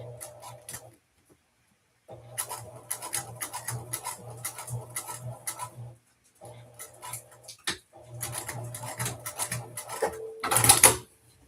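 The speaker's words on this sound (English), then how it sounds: "we're going to move on to creating the strap. Just top stitching." A sewing machine top stitches a bag strap in repeated runs of rapid, steady mechanical ticking and humming, with brief pauses between runs and a louder rustle near the end.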